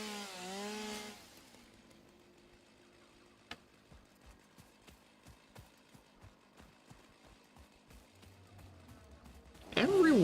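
Chainsaw in the video game Satisfactory, cutting trees in the North Forest: a series of soft, evenly spaced rhythmic chopping ticks at moderate volume, with brief bursts of other game sounds at the start and end.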